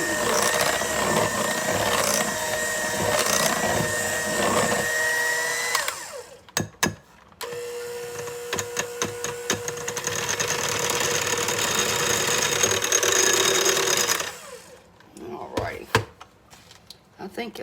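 A mixer runs steadily through chocolate cake batter for a small sheet cake, a continuous motor whir that pauses, thumps briefly, then resumes before stopping, with occasional knocks against the bowl.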